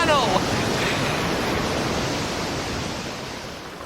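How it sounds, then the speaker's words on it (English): Waves break over a boat's gunwale as a sound effect in an audio drama: a loud, unbroken roaring wash of surf and spray that eases slightly toward the end, with no voices. "There are waves breaking over our gunwale."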